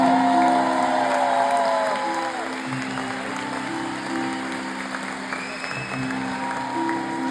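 Dense, sustained applause from a large audience at a concert in Toronto, loud and steady throughout with some cheering mixed in.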